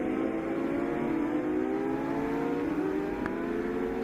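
A 1000 Kawasaki racing motorcycle screams along a race circuit, its engine note holding loud and steady with rising and shifting whine as it revs, heard at a distance with no talk.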